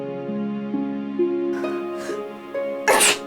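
A woman sneezes once, sharp and close, at the end of a quiet indoor moment over a faint musical tone, with a couple of softer breaths just before.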